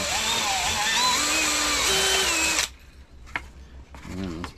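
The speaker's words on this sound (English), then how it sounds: "Let's ream that out a little bit." A power drill reams out a hole in a piece of wood, whining loudly with shifting pitch for a couple of seconds before stopping, followed by a few quiet clunks and a brief voice.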